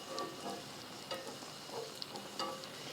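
Pork crisping in a hot pan over medium-high heat, a steady close sizzle and crackle with small stirring scrapes, no voices.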